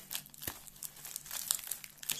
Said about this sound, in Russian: Ой, пакетик порезал.